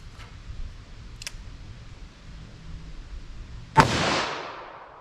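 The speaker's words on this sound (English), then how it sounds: "Now let's hit that with our 44 Magnum." A single sharp, loud .44 Magnum revolver shot fired into ballistic gel cracks out after a quiet stretch, then rings and decays over about a second, preceded by a few faint ticks.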